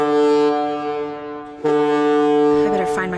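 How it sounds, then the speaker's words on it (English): A deep foghorn in the video game Perception blares as a long, loud sustained tone, cut briefly and then resuming, with a rising whistle-like sound near the end. "I better find my way to that foghorn stat."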